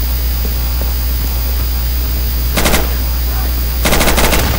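Automatic gunfire from the video game Insurgency, two rapid bursts of machine-gun fire, the second longer, over a steady background hum.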